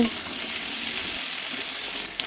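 Sliced onions and mixed vegetables fry in a pan for a Malabar spinach dish, an even, dense sizzle that holds steady throughout at close range.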